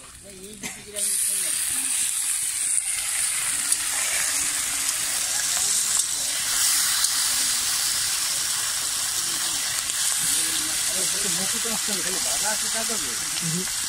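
Pieces of native duck meat hiss and sizzle in a hot pan at a family picnic in the Andaman Islands, a loud steady frying that runs throughout, with people talking over it.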